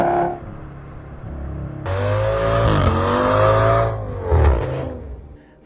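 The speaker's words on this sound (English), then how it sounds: "it makes a wicked sound when shifting at high RPM" An Audi S6 V10 engine revs hard at high RPM through gear shifts, a loud, close rising roar with brief dips between pulls and a final surge before cutting off.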